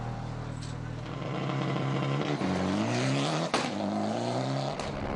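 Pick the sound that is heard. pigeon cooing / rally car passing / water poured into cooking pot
rally car passing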